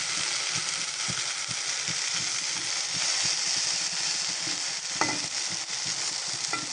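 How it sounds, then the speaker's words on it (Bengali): Eggplant slices fry in a pan with a constant hissing sizzle and soft bubbling that hold steady for several seconds, plus one brief clink near the end and no speech. "এবার আমি এই পিঠটা ভালোভাবে ভেজে নেব।"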